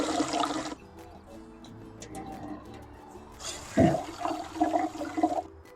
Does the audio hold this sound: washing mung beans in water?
yes